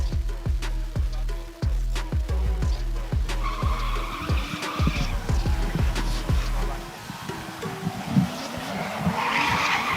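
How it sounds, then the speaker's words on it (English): A BMW E46 doing donuts on a race track, with loud, continuous tire squeal and screeching skids over a revving engine that rises and falls in repeated surges, close and dominant throughout. "You guys see some donuts on track from Samet as he lights up the back end of that E46 BMW."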